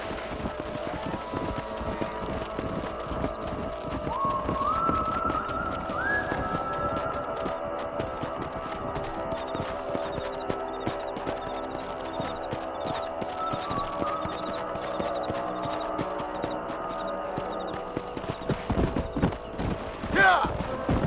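Horse hooves clip-clop steadily in the Western open-world game Red Dead Redemption, with occasional whinnies and wind, while game voices talk over the hoofbeats.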